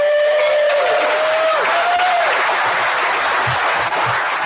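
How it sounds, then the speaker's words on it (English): Applause from the room at the Navy Rugby Hall of Fame dinner for the 2025 inductees, a loud sustained wash of clapping across the whole clip, with a brief tonal sound fading out near the start. "I'm going to ask you for one more round of applause for our 2025 Hall of Fame inductees"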